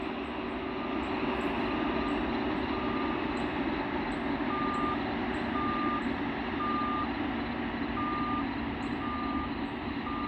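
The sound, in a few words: reversing beeps from rail maintenance equipment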